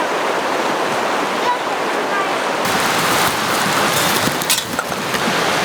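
Creek water flowing in the Alaska backcountry, a continuous broadband rushing and burbling that grows louder partway through, with faint sounds of movement nearby.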